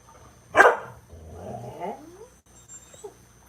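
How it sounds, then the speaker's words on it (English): Dogs bark outdoors near a backyard pond: one loud, close bark, then softer whimpering and growling sounds that fade away. "The dogs are barking."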